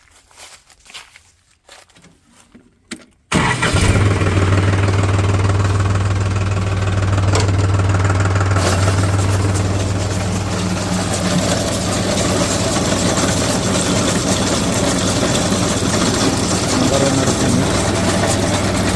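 A tractor engine cranks over after a few seconds of quiet shuffling, then settles into a loud, steady, low knocking idle that runs on unbroken.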